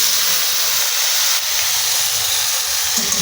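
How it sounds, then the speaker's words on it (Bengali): Eggplant frying in hot oil in a home kitchen, giving a loud, continuous, even hiss that holds steady throughout with no talk over it. "আমি এটাকে ভেজে দিচ্ছি বেগুনটা"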